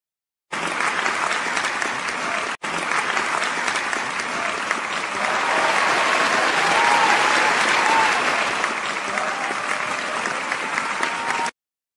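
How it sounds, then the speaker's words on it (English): Canned round-of-applause sound effect played during a live stream, a dense uniform crowd clapping that starts abruptly, cuts briefly, then continues steadily for several seconds before stopping sharply. "Is there a round of applause I can get for that?"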